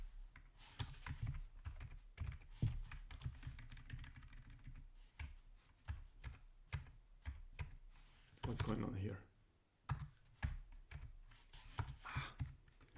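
Typing on a new computer keyboard, rapid uneven keystroke clicks close to the microphone, with someone speaking over them at moments.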